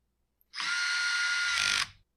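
A cordless driver cranks down the clamp screw on a Husqvarna 525PT5S pole saw drive tube, one steady high whirring run of about a second and a half, close and loud.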